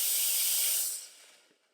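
An espresso machine steam wand, compared between an El Rocio Zarre and a Breville Dual Boiler, releases a loud, close hiss that cuts off abruptly and fades into a quiet tail.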